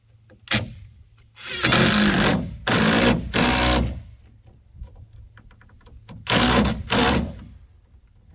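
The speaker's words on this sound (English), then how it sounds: "And now I'm just screwing it on." A power drill drives screws into plywood for a roadside stand, with several loud whirring bursts of a second or so each, separated by pauses, close to the listener.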